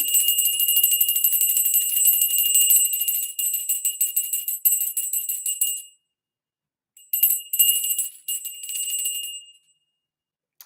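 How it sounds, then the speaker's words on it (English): Bell being rung: rapid, bright metallic ringing held for several seconds, then after a pause two more shorter bursts of ringing, loud and close with no talk. "So today I'm going to ring the bell."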